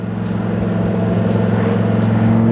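A Dodge Viper GTS ACR pulls hard through a third-gear roll-on, its engine a loud, steady, close-up drone with strong harmonics that builds gradually in volume over a couple of seconds, no voices over it.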